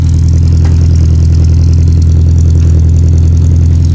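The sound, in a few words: 1975 MGB engine running after cold start, rebuilt carburetor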